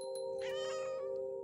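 A cat meows in the video game What Remains of Edith Finch, one drawn-out, close and clear meow lasting about a second over a steady tonal game-ambience hum.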